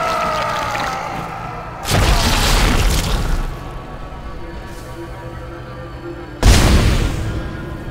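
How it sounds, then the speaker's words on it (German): Deep booming explosions from the video game Dead Space: a dull rumbling bed broken by two loud, heavy blasts several seconds apart, with no talking over them. "Explodier endlich, Miss Key."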